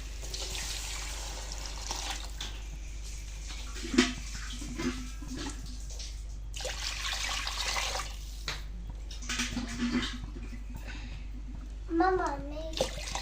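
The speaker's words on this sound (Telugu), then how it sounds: "వాటర్ పోస్తున్నా" Water pouring steadily into a pot of rice for veg biryani, splashing throughout, with children's voices chattering intermittently in the background.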